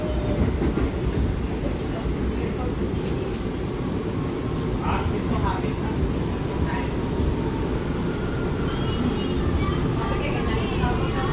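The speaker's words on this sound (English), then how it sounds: "This is a Rockaway Boulevard bound shuttle train." An R179 subway shuttle train rides the rails toward Rockaway Boulevard, a loud steady onboard rumble and roar with faint clicks of the tracks throughout, heard from inside the car.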